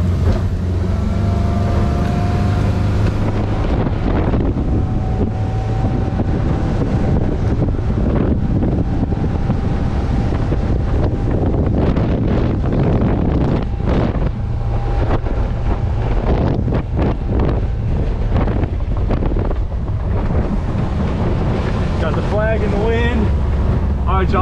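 A boat runs across choppy, wind-whipped water on a lake near Chattanooga, Tennessee, with a constant low engine and hull rumble, heavy wind buffeting the microphone and brief bits of talk near the end.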